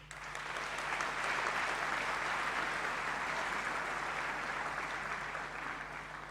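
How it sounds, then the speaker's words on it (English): Applause from the audience at a South African Navy gala concert swells in and holds as a broad, steady clapping that fills the hall, slightly distant and soft, for several seconds. "a round of applause."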